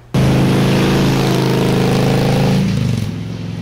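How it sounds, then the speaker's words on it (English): A Victory Vision motorcycle engine starts and runs loud and steady with a throbbing low rumble, easing down slightly toward the end. "it's Victory's new flagship motorcycle, and you have to ride it to believe it"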